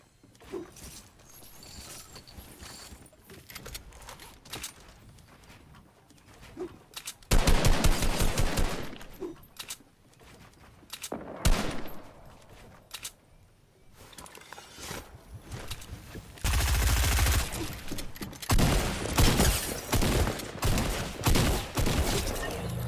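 Fortnite gunfire: scattered shots at first, then loud bursts of rapid automatic fire. Later comes a long, sustained volley of close, heavy shooting with short pauses between bursts.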